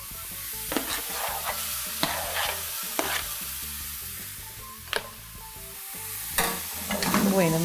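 Tomato goes into onions frying in a pan, giving a continuous sizzle broken by several sharp stirring scrapes and a brief louder hiss near the end; no speech.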